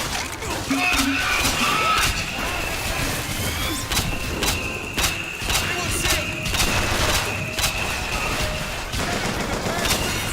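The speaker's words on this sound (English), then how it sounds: "Here, have my firework gun." A firework gun blasting repeatedly in BioShock Infinite, a string of sharp bangs and crackling bursts spread across the stretch, mixed with combat noise, smashing debris and some voices.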